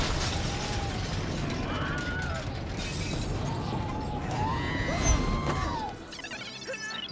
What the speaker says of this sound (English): and then the glass is gonna break